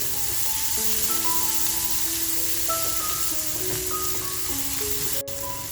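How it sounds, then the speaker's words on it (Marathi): Fresh coriander fries lightly in hot oil as part of preparing prawn-stuffed squid, giving a continuous, even, close sizzle with no speech. "थोडीशी कोथंबीर हलकंच आपल्याला फ्राय करून घ्यायचं आहे"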